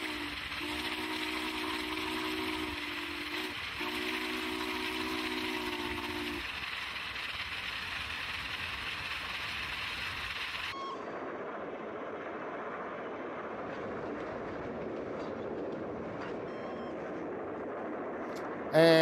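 Union Pacific steam locomotive UP844 running at speed, with a sustained whistle blowing in two long blasts over a steady, dense rumble of the engine and rails; the whistle stops and the roar continues alone.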